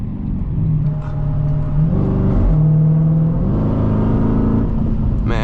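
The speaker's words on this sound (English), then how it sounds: "So I'm rolling through the gearbox. I was in third gear, and as I'm accelerating" An 800 HP Dodge Hellcat accelerates hard through the gears, its loud engine rising in pitch, dropping briefly at each shift, then climbing again, heard up close from inside the car.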